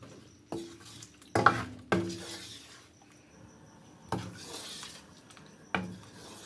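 Potatoes being stirred in a pan, with several sharp scrapes and knocks of a utensil against the pan spaced apart over a faint sizzle.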